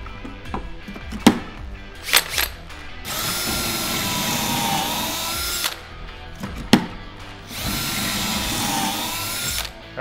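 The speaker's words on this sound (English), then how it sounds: "let's go ahead and get your first pocket holes drilled here" A power drill bores pocket holes into wood through a pocket-hole jig, two sustained high-pitched drilling runs of a few seconds each, close and loud, separated by clicks and handling knocks of the tool and workpiece.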